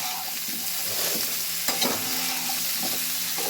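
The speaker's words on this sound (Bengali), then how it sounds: "নাড়াচাড়া করে প্রত্যেকটা আনাজকে একটু মজিয়ে নেওয়া" Vegetables for a thin mixed-vegetable curry stirred and frying in a little oil, a soft even sizzle with a few light spoon scrapes, close by, no voices.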